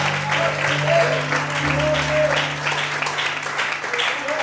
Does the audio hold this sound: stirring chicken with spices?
no